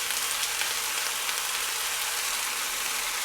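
Mushrooms and onions sauté in butter in a pan, giving off a steady, close, even sizzle that holds for the whole few seconds with no voices over it.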